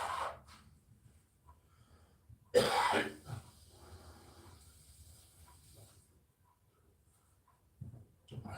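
A person coughs and clears their throat in a couple of harsh bursts, separated by quiet stretches with faint breathing and rustling.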